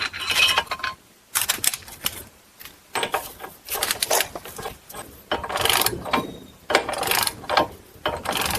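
A ratchet tightens suspension bolts during a GM 4T65-E transmission install on a Buick Lucerne, Grand Prix or Impala, in repeated bursts of rapid pawl clicking separated by short pauses, close and distinct, with no talk.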